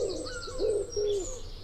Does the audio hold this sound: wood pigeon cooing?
yes